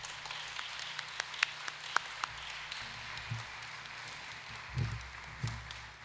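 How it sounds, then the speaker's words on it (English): Light, scattered applause from an audience at a high school graduate awards ceremony, honoring new lifesavers, with a few sharper individual claps and some low thumps under it. "One more round of applause for these new lifesavers."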